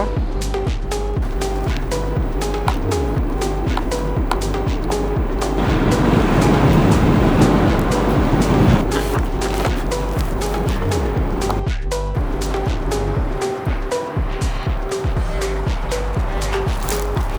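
A 2024 Storm GT2 60V electric motorcycle, rated 1500W and peaking at 2800W, accelerates gradually on the road, with a steady motor hum and whine under heavy wind and road rumble, loud and close throughout.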